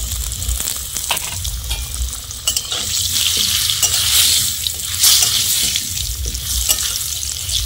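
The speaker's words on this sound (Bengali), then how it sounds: "4 পিস আলু রেখেছি, সেটা ভেজে নেব এখন।" Potato pieces fry in oil in a wok with salt and turmeric, crackling and sizzling loudly while a spatula scrapes and stirs them in repeated strokes.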